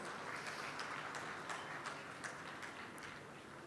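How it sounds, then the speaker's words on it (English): Steady applause from a conference audience for a moderator and speakers, a continuous wash of clapping with scattered sharper claps, heard from some distance and fairly quiet. "Round of applause for moderator and our speakers."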